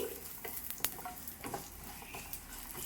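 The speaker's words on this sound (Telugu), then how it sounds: "పల్లీలు అయితే చిటపట్లు ఆడుతున్నాయి." Peanuts and white sesame seeds crackle and sizzle as they dry-fry in a pan with coriander seeds, giving a continuous close hiss with scattered pops and a few stirring scrapes, with no talking.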